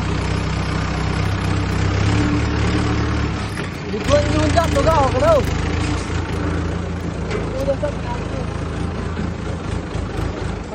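A tractor engine runs at a steady low idle, close and continuous, while someone speaks over it partway through.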